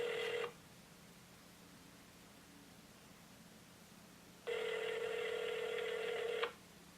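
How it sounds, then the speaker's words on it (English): A telephone rings twice, electronic trilling bursts separated by a few seconds of quiet line hiss, with no one picking up. "My mom's not answering the phone."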